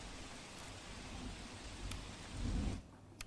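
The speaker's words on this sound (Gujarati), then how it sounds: "પાટણ શહેરમાં ધોધમાર વરસાદ વરસવાના કારણે નીચાણવાળા વિસ્તારોની અંદર પાણી ગરકાવ થઈ જવા પામે છે" Heavy downpour in Patan city, Gujarat, with low-lying streets flooding: a steady, fairly faint broadband wash of rain that swells briefly near the end before cutting off abruptly.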